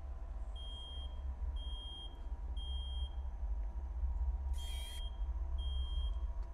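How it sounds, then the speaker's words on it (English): A smoke alarm inside a horror video game's house beeps in short, regular high-pitched pulses, roughly one every three-quarters of a second, over a steady low ambient rumble, with no speech. "Fire alarm going off?"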